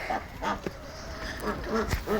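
Farmyard ducks quacking in a few short, scattered bursts at moderate distance over a soft outdoor background, with no talking.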